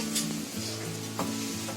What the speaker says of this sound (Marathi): हे आपलं चिकन बघा मस्त एकदम फ्राय झालाय